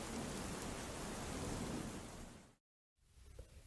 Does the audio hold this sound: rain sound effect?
yes